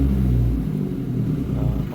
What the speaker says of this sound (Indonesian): Nah ini coba kita gas lagi ya untuk knalpot dari RGN Performance ini.